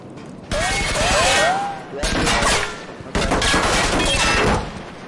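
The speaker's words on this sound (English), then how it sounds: "Shots fired." Video game gunfire crackles in three sustained bursts of dense, loud shots, with brief gaps between them and voices faintly audible underneath.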